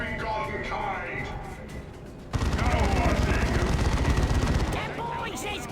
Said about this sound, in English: Assault Cannon has been deployed by the Terminators.